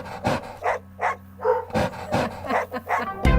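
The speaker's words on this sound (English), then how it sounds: "we got doggy barks to help us count" A dog barks in a quick series of short, evenly spaced woofs, counting along rhythmically over a low sustained piano tone.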